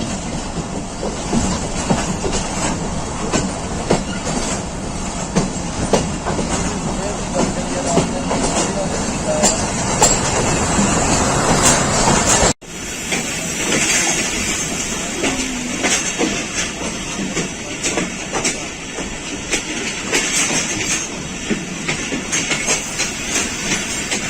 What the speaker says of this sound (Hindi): 48 डाउन रहमान बाबा एक्सप्रेस वजीराबाद जंक्शन पर पहुंच रही है।